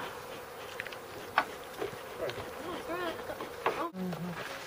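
Buzzing of a large, five-year-old wild honey bee colony during a hive relocation, a steady insect drone under intermittent nearby voices.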